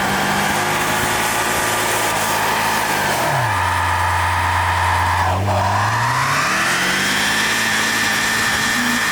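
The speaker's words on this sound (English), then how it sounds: "let's go rip a quick burnout" A Honda Element's engine revs hard through a burnout, its pitch dropping then climbing back up in a loud, sustained roar close by with no talking.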